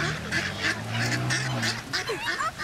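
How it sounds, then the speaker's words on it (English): A flock of birds, likely geese and ducks, honks and calls excitedly while being tossed bread, with overlapping repeated honks close by and loud, and a faint voice in the background. "Guys, oh my gosh, all these birds want food too."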